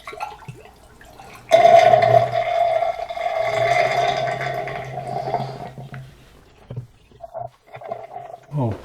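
Rinse water is poured into the drain of a home freeze dryer, a close gurgling flow that starts abruptly and runs for about five seconds before tapering into a few small knocks.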